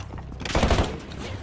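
Gunfire in the shooter game Warzone, a dense burst of shots swelling mid-clip over a constant noisy background, loud and close with no talk over it.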